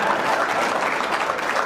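Steady audience applause from a crowd at a live comedy performance, continuous dense clapping throughout with no talk over it.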